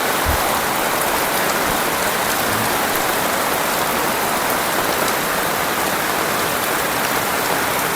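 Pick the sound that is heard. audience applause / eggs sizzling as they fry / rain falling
rain falling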